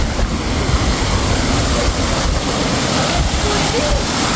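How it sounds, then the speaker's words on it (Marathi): Waterfall water pouring at the Sautada Rameshwar temple, a dense, steady rushing roar that holds evenly throughout, with some wind buffeting the microphone. "इथंच हे धबधबा आहे पहा. हे पहा, इथलं पाणी वाहत आहे."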